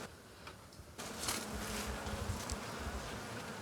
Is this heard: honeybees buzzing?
yes